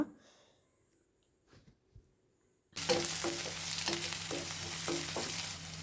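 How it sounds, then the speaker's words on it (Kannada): After a quiet opening with faint clicks, onion and garlic burst into a loud, steady sizzle as they fry in a pan over a low flame, with a few utensil scrapes while they are stirred. "ಈ ರೀತಿ ಲೋ ಫ್ಲೇಮಲ್ಲಿ ಇದನ್ನು ಫ್ರೈ ಮಾಡ್ಕೋಬೇಕಾಗತ್ತೆ"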